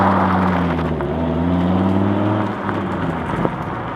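A 2002 Dodge Viper Final Edition's engine rumbles close up with a steady, deep multi-tone drone, then dips and picks up briefly, loud and alone without any talk.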